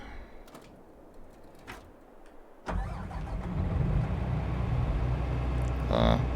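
A combine harvester, the big Case machine, in Farming Simulator 22: a quiet lull, then an engine cranks and catches abruptly, settling into a loud, steady idling rumble that swells slightly near the end.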